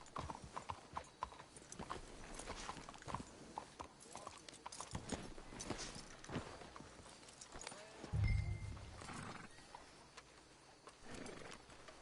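Horse hooves clop in a steady walking rhythm with occasional snorts and rustling, moderately close, no speech, in the video game Red Dead Redemption 2.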